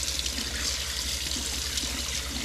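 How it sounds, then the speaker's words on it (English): Tap water runs steadily over pieces of deer meat at a sink, a continuous close splashing trickle with no talking. "we're just gonna rinse them off with some water."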